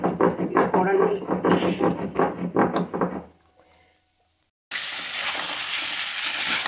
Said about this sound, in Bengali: এই হচ্ছে আলুর দম কষানো হয়ে গেল।